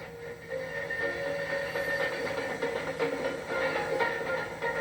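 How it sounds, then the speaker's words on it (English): A Miami Metro electrified rapid transit train runs along the elevated railway, producing a steady, fairly loud rumble and hiss that holds for the whole stretch with no voices. "a train runs on Miami's electrified rapid transit system, the Metro"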